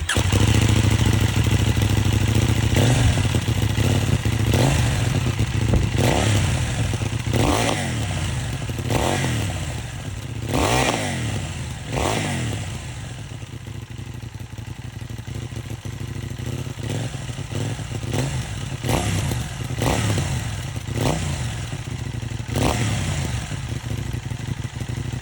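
A motorcycle engine with a loud, raspy aftermarket X-Race exhaust revs repeatedly in sharp bursts over a rumbling idle, close by, with no talking.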